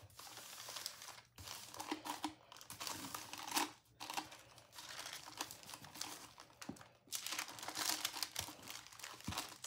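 Parchment paper wrapped around an epoxy-coated tumbler crinkles and crackles through repeated rolling and pressing, close-up and dense, with a few short gaps and soft taps between passes.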